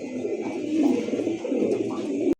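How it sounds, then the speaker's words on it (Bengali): A pair of jet-black pigeons at a pigeon farm coo continuously, with deep, burbling, close-up calls that swell and ebb before cutting off abruptly. "এই মুহূর্তে দেখতে পাচ্ছেন দুইটা কবুতর"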